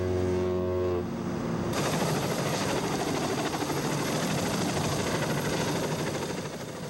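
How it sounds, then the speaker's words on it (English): A Sea King naval helicopter hovers over the American warship USS Independence in English Bay, a loud, steady, close rotor and engine roar filling the clip without speech. "One of the ship's 6 Sea King helicopters hovers"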